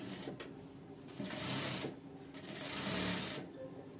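Sewing machine stitching a princess cut blouse, running in two long, steady bursts with a brief pause between them. It sounds close and moderately loud, with no talk.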